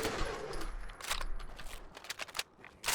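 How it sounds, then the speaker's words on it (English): Rapid gunfire from the video game Fallout 4, a magazine emptied in quick irregular bursts of sharp shots, moderately loud and close with brief gaps between volleys. "I have absolutely no shame with mag dumping like this."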